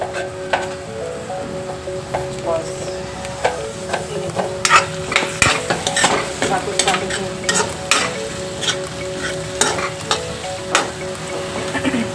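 Tomatoes fry in an orange coconut masala, giving a close, continuous sizzle with a busy run of clattering stirring strokes in the middle, easing off toward the end.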